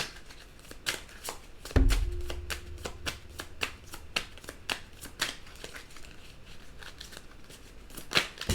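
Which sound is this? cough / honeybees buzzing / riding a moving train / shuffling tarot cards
shuffling tarot cards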